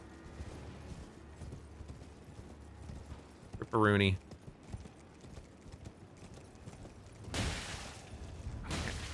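Horse hooves clip-clopping on a mount in Elden Ring: Shadow of the Erdtree, soft rhythmic hoofbeats under game sounds, with a loud rising whinny-like cry midway and a brief burst of noise near the end, while someone talks.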